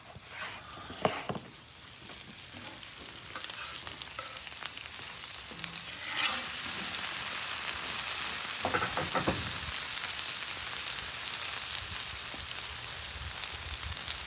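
Leftover cheesesteak sizzles on a flat top grill, a continuous close frying hiss that grows louder midway, with occasional scraping stirs.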